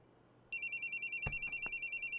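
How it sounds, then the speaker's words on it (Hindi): An incoming call sets off a mobile phone ringtone, a bright electronic trill pulsing in a steady rapid rhythm, loud and close, after a moment of quiet, with a few soft knocks under it. "हम तीनों जब भी साथ होते हैं ये तौकीर चिपकू की हमेशा कॉल आ जाती है।"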